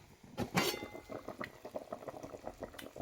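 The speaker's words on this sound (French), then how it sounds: "Je vais recouvrir et laisser le tout bien bouillir, bien s'incorporer une bonne vingtaine de minutes." Fish soup sauce boils in a covered pot, with quiet, close, irregular bubbling and small pops and one louder burst near the start.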